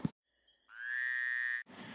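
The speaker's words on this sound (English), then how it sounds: "Squarehead likes frogs." One sustained croaking call, a steady tonal frog-like drone about a second long, close and clear after a short silence, framed by brief noise bursts.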